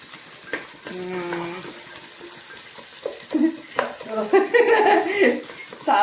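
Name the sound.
vegetables being sautéed and stirred in pan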